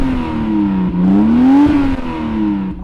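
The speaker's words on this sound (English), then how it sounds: "Does the old Mark 4 Supra with a Toyota engine sound better than a BMW built" A Toyota Supra Mk4 engine revs up and down in a smooth rising and falling whine, loud and close, sustained throughout.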